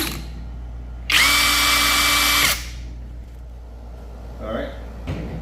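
A Ryojegk 1/2-inch impact drill spins up loudly at close range for about a second and a half, giving a steady high whine, then winds down to quiet with a few small handling knocks afterward.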